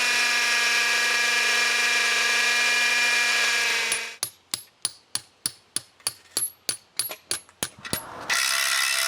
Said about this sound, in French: Je dois aussi m'occuper de fixer les ancrages au béton.